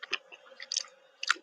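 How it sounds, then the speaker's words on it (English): Someone chewing food while live on a broadcast call, with several close, wet crunching bites in irregular bursts against a quiet background. "A little rude to be eating on the air, Charles."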